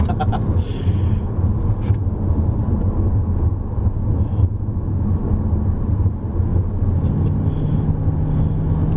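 Inside a Hyundai Kona 2.0 driven gently through a corner, a steady low engine and road rumble fills the cabin at an even level throughout, with no voices.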